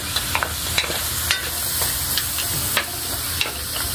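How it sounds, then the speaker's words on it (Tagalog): Native chicken with vinegar being stirred in a pan for a spicy halang-halang stew: a loud, steady sizzle and hiss with repeated scraping strokes of the spoon. "Haluin lang muna para yung vinegar hindi na natin haluin mamaya na"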